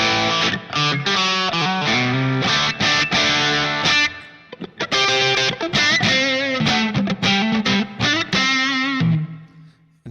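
An electric guitar plays through the Line 6 Pod HD500 Plexi Lead 100 Brt amp model, a bright Marshall Super Lead 100 emulation, giving loud, heavily distorted riffs and chords with a brief pause midway.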